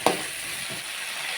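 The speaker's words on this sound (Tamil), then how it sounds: "கருவேப்பிலையும் மிளகாய் 4 வரமிளகாய் 4 போட்டு அதையும் நல்லா வணக்க விட்டுருங்க" Curry leaves and dried red chillies frying in hot oil for a mutton curry give a brief burst of crackle as they hit the pan, then an even sizzle continues alone.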